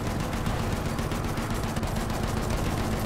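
Rapid automatic gunfire in the video game Battlefield 1, a dense continuous rattle of shots over rumbling battlefield noise, steady and loud throughout with no talking.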